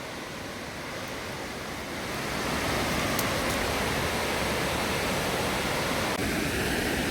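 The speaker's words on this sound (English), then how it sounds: "So that noise you can hear, that's the weir." Water rushes steadily over a river weir in Sheffield, a dense broadband roar that swells slightly louder after a couple of seconds and holds constant, with no talking.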